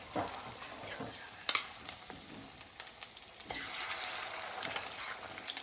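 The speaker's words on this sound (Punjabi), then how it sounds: "ਹੁਣ ਉਹੀ ਤੇਲ ਦੇ ਵਿੱਚ ਆਪਾਂ ਕੀ ਕਰਾਂਗੇ ਇਹ ਜਿਹੜਾ ਸਾਰਾ ਹੈਗਾ ਚਿਕਨ ਇਹਨੂੰ ਵਿੱਚ ਪਾ ਦਾਂਗੇ" Chicken pieces for Kung Pao chicken fry in oil with loud, crackling sizzle and scraping stirring strokes, nearby and continuous, with no talking.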